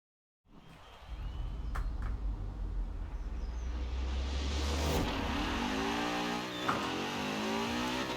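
A race car in Forza Horizon 4 launches hard off the line on a grid of rival cars, its engine climbing from a low rumble into a loud sustained rev that holds steady close up with no talking.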